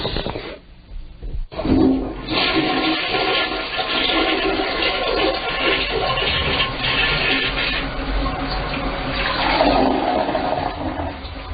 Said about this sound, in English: Take me out with a bong hit and a toilet flush, please.